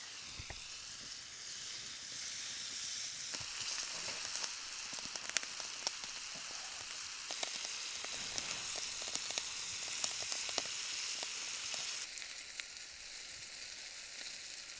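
Walleye fillets fry hard in a pan over high heat at a canoe campsite, a steady, close crackling sizzle with dense popping spatter running continuously throughout, no voices.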